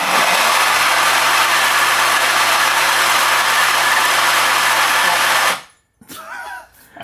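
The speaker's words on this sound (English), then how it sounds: "I guess I should grind it at the fastest RPM." Option-O Lagom 01 coffee grinder grinding pink bourbon beans at its fastest speed, a loud steady whir held for about five and a half seconds before cutting off abruptly, followed by a brief bit of quieter sound.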